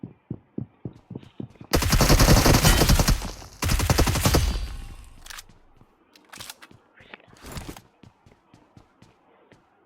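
Gunfire in the battle royale game Free Fire: a quick rhythmic series of single shots, then two loud sustained bursts of rapid fire, followed by scattered sharp shots that fade toward the end.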